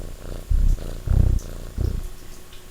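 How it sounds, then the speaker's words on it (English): A cat purrs up close in slow rhythmic rumbles, about four loud throaty pulses with softer breaths between, alone without talk. "Can you hear my cat purring?"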